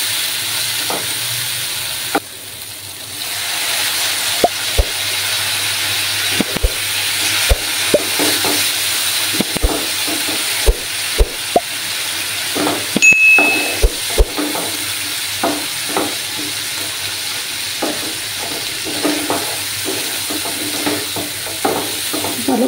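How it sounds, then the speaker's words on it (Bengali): Ground spices including Kashmiri chilli powder sizzle with a little water in a pan for Bengali-style boal fish curry, a continuous hiss with repeated scraping and tapping of a spatula as they are stirred. "এবার আমি একটু জল দিয়ে ভালো করে কষিয়ে নেব।"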